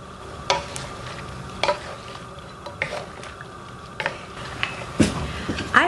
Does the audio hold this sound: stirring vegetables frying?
yes